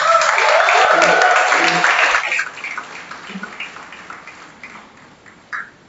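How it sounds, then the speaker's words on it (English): Graduates at an architecture college convocation give a round of applause, a full burst of clapping for about two seconds that thins quickly into sparse, fading claps with a faint voice beneath. "So let's give us a big round of applause"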